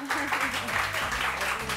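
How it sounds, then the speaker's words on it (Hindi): Studio audience on a Pakistani morning talk show applauding to welcome a guest, a steady wash of clapping with voices and tonal sound mixed in beneath it. "तो तालियां फायजा के लिए भाई"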